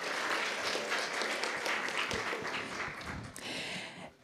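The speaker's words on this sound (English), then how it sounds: "I think we should clap for that" Audience applause at a museum talk, steady dense clapping from a crowd in a hall that fades toward the end.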